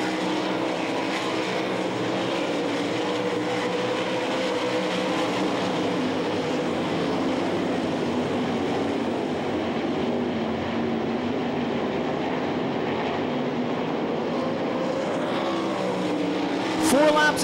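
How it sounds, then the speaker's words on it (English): Sprint cars race on the dirt oval at the Knoxville Nationals in 2001, a dense, steady engine roar from a pack of cars that holds for the whole stretch, with an announcer talking over it. "Close call with the 55 of Skip Jackson down the backstretch"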